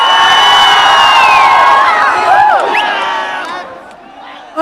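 A festival crowd at a state-level lily festival concert cheers, whoops and shouts loudly and continuously, the roar swelling then gradually tapering off.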